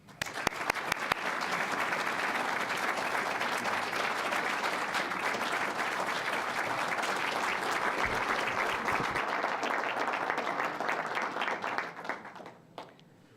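Sustained audience applause welcoming Professor Tony Ortega, Regis University's 2018 Faculty Lecturer of the Year, a dense, even clapping from a full room lasting over twelve seconds before tapering off quickly at the end.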